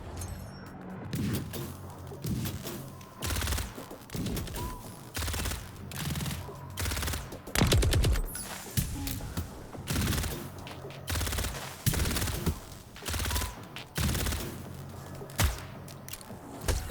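Turret gunfire from the video game Reverse Collapse: Bakery Girl, a rapid string of sharp shots that repeat steadily over a low background rumble with no talking.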